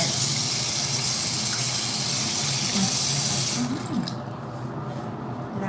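Tap water gushes steadily into a sink during handwashing, a loud continuous rush that cuts off abruptly partway through, leaving a quiet trickle.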